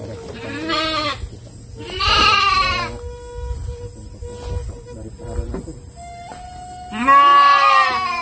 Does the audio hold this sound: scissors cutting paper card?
no